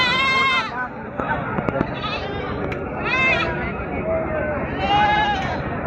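Goats bleat repeatedly at a busy goat market, several wavering cries over a constant murmur of crowd voices and nearby talk.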